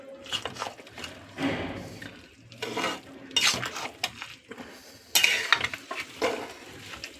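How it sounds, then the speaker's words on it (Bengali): A pot of vegetarian bottle gourd curry with lentil dumplings is uncovered and stirred, with clinks of a lid and spoon and wet scraping in irregular bursts, close and fairly loud, with no voices. "ঢাকাটা খুলে একবার নাড়িয়ে দিচ্ছি"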